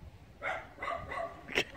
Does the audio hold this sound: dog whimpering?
yes